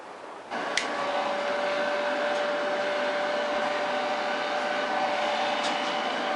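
A hair dryer blows across a freshly painted coat on leather, a loud, steady, close whooshing drone that switches on after a brief quiet moment and then holds constant with a faint whine.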